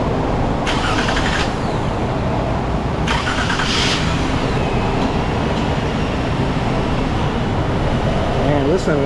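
A 210,000-mile Toyota Solara engine idling, a loud steady rumble close by with a few brief bursts of noise over it.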